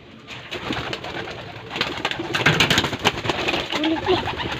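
Pigeons coo in a steady, close, moderately loud run amid a bird trapping setting, with scattered wing flaps and rustles around the calls.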